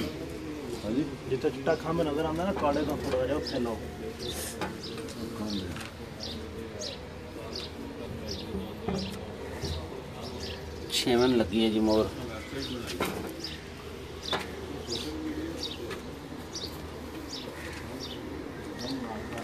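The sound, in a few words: pigeons cooing while being stamped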